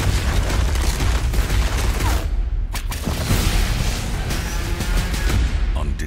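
Sustained, loud gunfire and booming blasts from an animated Mortal Kombat Legends: Battle of the Realms film trailer, a dense continuous barrage with rifle-like shots, a brief lull midway, and faint voices mixed in.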